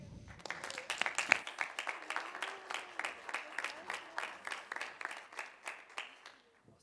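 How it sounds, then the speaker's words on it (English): A conference audience at a sports business pitch case competition applauds the teams with steady, medium-distance clapping that fades out toward the end. "can we just give another round of applause to all the teams"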